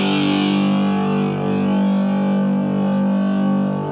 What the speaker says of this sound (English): you can hear what kind of overdrives I can get out of this